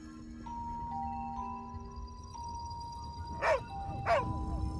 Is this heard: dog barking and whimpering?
yes